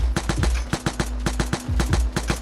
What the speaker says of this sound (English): even with this weapon, I choose to fire in bursts just to make it a little more accurate along the way